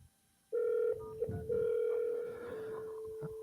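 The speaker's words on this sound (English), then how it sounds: "Now let's dial Sean. I gotta hit flash. 575 680 50 72" A telephone keypad dials a number after a flash, giving a series of steady electronic tones of varying length, clear and close, some running several seconds, with a short quiet gap at the start.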